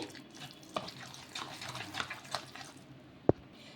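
Water runs and splashes steadily into a bowl of soaking wheat rava, closing with a single sharp knock near the end.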